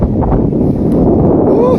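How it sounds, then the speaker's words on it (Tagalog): Wind blowing across the open hillside at Highlands Park in Legazpi, a loud low rumble buffeting the microphone with a faint voice in the background. "Sarap, sarap na hangin."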